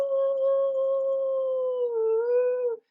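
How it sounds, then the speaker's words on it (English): A dog howls in distress: one long, steady, mournful tone, loud and close, that wavers slightly near the end before cutting off. "I heard his dogs howling in distress, the two of them howling."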